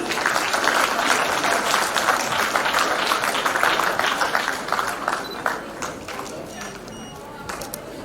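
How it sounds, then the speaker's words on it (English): An audience at an Indian Army national quiz semi-final applauds a school team from Pasinghat, Arunachal Pradesh, with steady, dense clapping that holds strong before easing slightly toward the end. "A round of applause for them"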